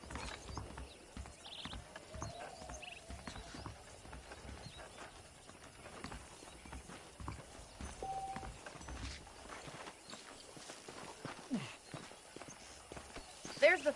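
Horse hooves clip-clopping at a walk in Red Dead Redemption, a steady rhythm of close, moderately faint hoofbeats with occasional tack clinks, running under a voice on a ranch.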